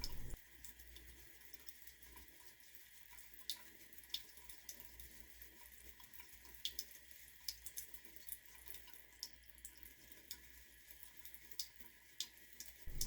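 Tap water runs steadily from a sink faucet while makeup brushes are rinsed, a soft continuous hiss and splash at close range with no talking.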